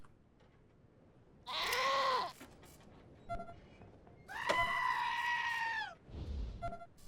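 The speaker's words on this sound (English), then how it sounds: "Those goats are freaking me out." Goats in the video game Wasteland 2 give two long, wavering bleats, then a shorter call, each standing clearly above a quiet background with gaps between.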